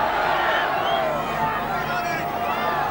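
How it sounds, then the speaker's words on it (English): A big 1970s football crowd roaring in support of York City against Oldham, a continuous swelling din of massed voices with shouts rising above it. "This big crowd getting behind York City now."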